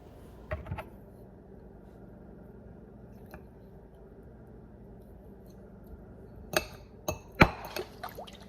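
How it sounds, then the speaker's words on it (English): Water is poured into a glass while Crystal Light flavoring is added, heard as a soft liquid trickle with a few brief clinks and splashy bursts near the end, close and quiet with no talk. "So right now I am preparing my water for the day, and I added a little Crystal Light just to give my water a little flavor"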